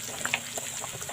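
Lentils and rice simmer in a pot for winter vegetable khichuri, with soft, scattered bubbling pops and gentle watery gurgles at low volume, no voices present.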